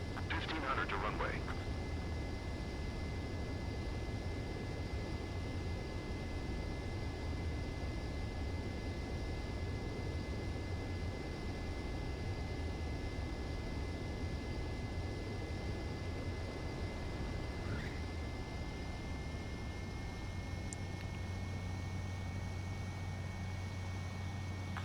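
A jet on landing approach in Ace Combat 7: Skies Unknown gives a steady, faint engine drone with a thin whine running throughout, alone and unchanging.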